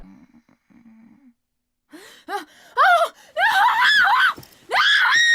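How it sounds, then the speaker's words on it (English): Eileen in Silent Hill 4 lets out a series of sharp gasps building into loud, strained screams and wails, close and intense, after a brief low murmur at the start. "She starts screaming, probably still believing she's in her room with Walter"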